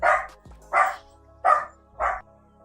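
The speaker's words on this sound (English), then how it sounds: "Oh, my dog going crazy." A dog barks four times in an even rhythm, each bark distinct and moderately loud, heard somewhat off to the side with no talk over it.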